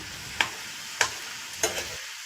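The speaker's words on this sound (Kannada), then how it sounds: "ಪುಡಿ ಮಾಡಿದಂತಹ ಪತ್ರೊಡೆಯನ್ನು ಈ ಒಗ್ಗರಣೆಗೆ ಹಾಕಿ ಚೆನ್ನಾಗಿ ಈ ಥರ ಮಿಕ್ಸ್ ಮಾಡ್ಕೊಳ್ಳಿ" Crumbled banana flower pathrode gets stirred into a sweet tempering in a pan, three distinct scraping clinks of the spoon over a quiet background sizzle.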